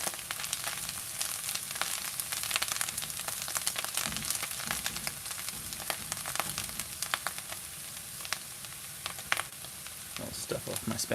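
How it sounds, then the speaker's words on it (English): Fennel and onion sautéing in a pan for onion jam with black trumpet mushrooms and bacon, a dense continuous close sizzle with bursts of crackle and occasional stirring scrapes, a voice speaking faintly under it. "Just waiting for a little bit more brownness on the fennel and the onion."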